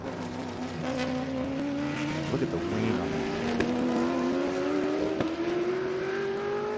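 A TA2 race car drives past at Sebring, its engine note climbing steadily as it approaches, loud and continuous over crowd noise while someone talks nearby.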